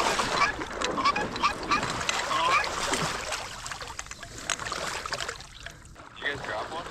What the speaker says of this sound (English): Dave, there's a goose coming at you on the deck.